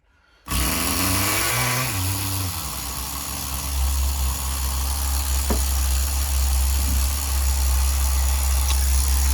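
A Tamiya TGS-R nitro RC engine runs during break-in: after a quiet start it bursts into a loud, buzzing high-revving drone that holds steady for the rest of the clip, with brief pitch wobbles early on.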